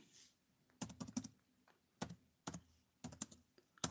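Bursts of keystrokes on a computer keyboard, clustered taps with short pauses between runs, close and fairly crisp against a quiet room.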